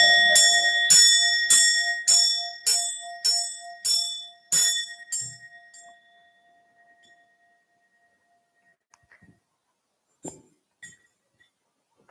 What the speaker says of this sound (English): This is a bell from Arcasante in Arizona. Let's ring in the new year.